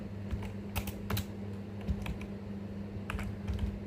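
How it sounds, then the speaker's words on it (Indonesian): Typing on a computer keyboard while entering commands in a database terminal, with irregular clusters of close, crisp key clicks over a steady low hum. "Kita ketik dulu"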